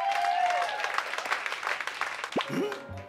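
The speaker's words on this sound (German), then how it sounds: "hier ist ein bisschen Applaus für Sie." Applause of a cartoon crowd rises for the star of an animated Garfield show, a dense patter of clapping, with brief cartoon sound effects toward the end.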